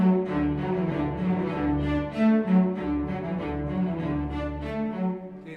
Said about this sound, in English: It sounds like this, the cello and bass.